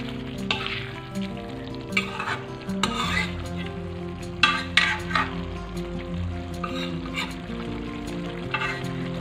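Kuih cakes fry in a pan with a steady loud sizzle and oil crackle, while a utensil stirs and scrapes against the pan in repeated bursts; no voices are heard.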